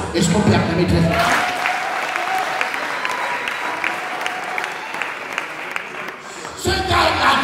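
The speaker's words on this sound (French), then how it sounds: "Est-ce qu'on peut acclamer très fort?" Loud applause from a church congregation fills the room, steady and dense, with a few voices briefly heard at the start and end around the clapping.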